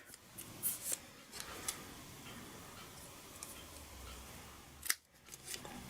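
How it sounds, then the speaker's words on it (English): Sharp scissors snip through paper while a Halloween treat bag is being made, giving a handful of crisp, quiet cuts spaced irregularly, with light handling rustles between them and a faint background hiss. "So I cut it in the middle, and from the outer edge I cut toward the centre."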